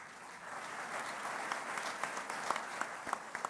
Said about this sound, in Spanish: Lo recibimos con un caluroso aplauso.